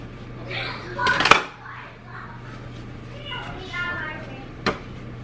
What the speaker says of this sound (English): Then I take my dough cutter and cut it in half.